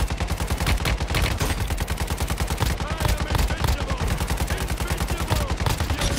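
Rapid automatic gunfire in the Warzone Mobile shooter game, a dense, loud, evenly spaced stream of shots that continues without a break and with no talk over it.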